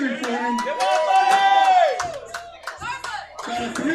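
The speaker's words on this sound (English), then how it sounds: "He's got the whole front row over here cheering for him." At a USAPL powerlifting meet, a front-row crowd cheers and claps for a lifter named Jaden, with loud whooping voices close by and brief applause breaking through.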